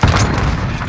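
A thrown grenade detonates in the Call of Duty: Modern Warfare video game, a loud, deep boom that hits at once and rolls on as a rumbling blast for the rest of the second.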